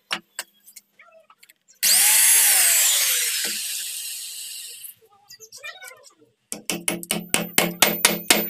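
A chisel cuts a hinge recess into a wooden door frame for double-door fitting. A long, loud stretch of harsh, grinding noise comes first, followed by a quick, evenly spaced run of sharp, close knocks.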